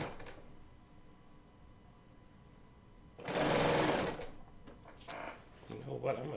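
A Bernina L890 serger sews on binding in one loud, fast mechanical run of about a second, with quieter clicks and handling noise around it.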